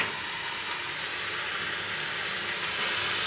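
Raw onion goes into hot oil in a pan for chicken keema masala, giving a steady, dense sizzle and hiss that holds constant throughout, close and alone with no talk.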